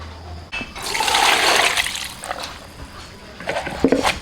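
Water drains off soaked glass noodles in a home kitchen, a close, loud rushing gush lasting over a second that tapers into lighter splashes, trickles and a few drips, with no voices.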